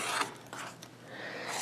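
Scissors or a blade cut through quilting fabric for a pentagon unit in a single short, close, rasping snip that scrapes briefly and fades.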